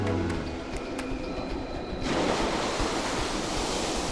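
Steaming geothermal ground with boiling pools in Iceland gives off a steady, loud broadband hiss and roar. It swells into a denser rush partway through and has no talk over it.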